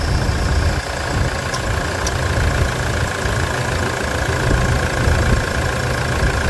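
Suzuki Samurai engine with a large oil leak idling steadily, a close, loud, continuous rumble with an even rough rhythm and no talking over it.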